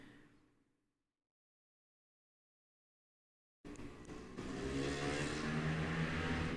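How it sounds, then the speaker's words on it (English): A loud vehicle engine passing outside, rising abruptly after a silent gap into a sustained low rumbling roar that grows steadily louder. "How dare you have such a loud engine?"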